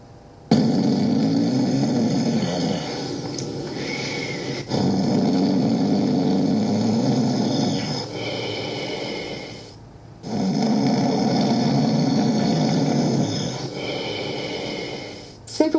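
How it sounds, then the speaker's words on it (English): Deep, rattling snores repeat in long drawn-out breaths, each followed by a brief quiet pause, loud and close with no talking. "The snoring sound results from the vibration of these two structures"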